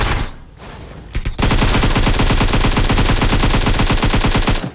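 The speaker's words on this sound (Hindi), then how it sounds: "अब यहाँ पर जो है आपने फायरिंग सुन ली होगी" Rapid automatic gunfire in the battle royale game PUBG Mobile, a few scattered shots and then a long, loud, steady burst of rapid shots.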